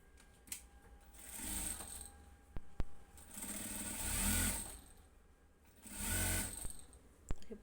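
A sewing machine stitches the lining of a blouse in short bursts, with quiet handling clicks between the runs of stitching.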